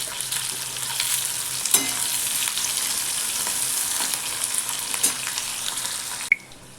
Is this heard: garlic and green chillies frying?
yes